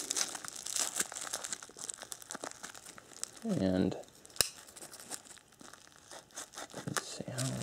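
Paper crumpling and crinkling while unboxing a Kershaw knife warranty return package, rustling handling noises throughout with a louder crunchy burst midway, with brief speech.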